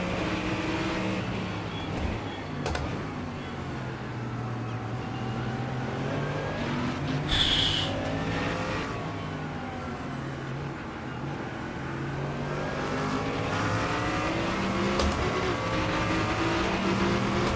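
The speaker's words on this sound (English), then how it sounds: "Car on your left." GT3 race car engine in iRacing at Sebring, a steady loud drone throughout with shifting pitch as the car runs close alongside another, with a brief higher burst midway.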